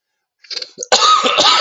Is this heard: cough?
yes